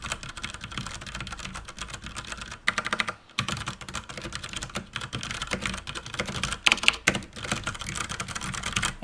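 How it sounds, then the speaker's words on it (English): Rapid, continuous typing on a WASD Code keyboard fitted with clear switches, close and crisp with dense irregular keystrokes and a few brief pauses, no voices. "the Code keyboard with clear switches"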